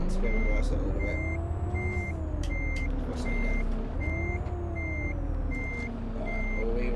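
Reversing beeps from a Karosa C954 bus in the OMSI 2 simulator, a steady series of evenly spaced electronic beeps over a loud, droning diesel engine that rises and falls slightly in pitch.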